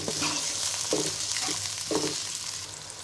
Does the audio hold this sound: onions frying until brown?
yes